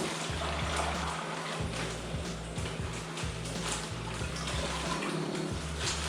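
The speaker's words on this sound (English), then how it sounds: "we're going to throw some of the water that these fish have come in into this container" Water from a fish transport bag pours steadily into a container beside a small reef aquarium, a continuous close splashing gush with a low hum underneath.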